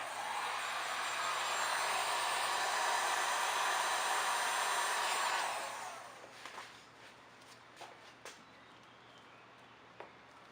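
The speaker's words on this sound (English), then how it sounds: "I'm just going to hit it with my heat gun just a little bit to shrink it" A heat gun blows a steady, loud hissing whoosh while shrinking vinyl chrome delete tape on the window trim of a 2017 Honda Civic Si, then shuts off, leaving faint clicks and handling noises.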